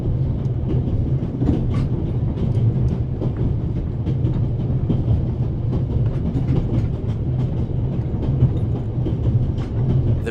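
A moving train in the video game The Raven: Legacy of a Master Thief gives a steady, loud rumble with a continuous low drone and faint rattling clicks throughout, without speech.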